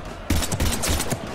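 Rapid gunfire from a firefight in the video game Mass Effect 3, several loud close bursts in quick succession with short gaps between them.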